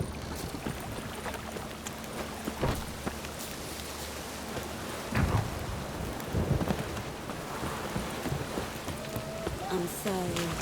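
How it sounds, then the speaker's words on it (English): A thunderstorm in The Witcher 3 rolls on with steady rain hiss and low rumbles of thunder, the storm noise running throughout, with a couple of louder rumbling swells midway. "The storm, damn it."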